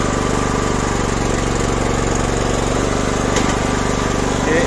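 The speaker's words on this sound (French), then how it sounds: "je passe le régime moteur, je monte le régime moteur" A concrete mixer's engine runs loud and close, a dense steady roar that rises slightly in pitch as it is revved up, with no other sound over it.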